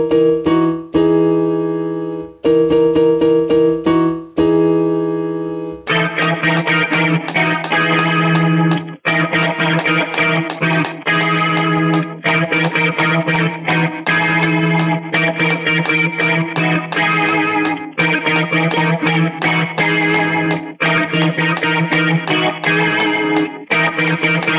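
Distorted electric guitar repeats a riff, starting with a few sparse chopped chords before settling into a loud, dense, driving pattern of fuzzy notes played over and over without any talking.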